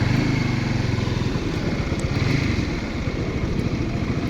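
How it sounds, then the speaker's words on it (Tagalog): Many motorcycles fill a busy shopping parking area, and a close engine putters at idle in a steady, pulsing rumble throughout. "Ang daming motor pala dito."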